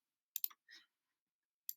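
A few soft computer mouse clicks selecting an answer on a test screen, two quick clicks close together, a faint muffled tap, then one more click after a pause, in near silence.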